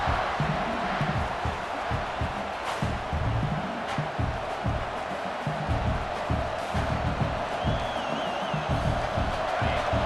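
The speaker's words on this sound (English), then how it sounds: "Listen to this crowd just shaking the girders of this place" A dense stadium crowd in the video game EA Sports College Football 26 roars continuously, loud and sustained, with shouts and whoops rising out of the wall of noise.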